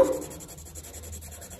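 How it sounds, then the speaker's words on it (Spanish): A marker or pencil colours in a number on a paper savings chart, a faint, soft scratching and rubbing that goes on steadily and close. "Ahora ya nada más nos falta colorear este número 71."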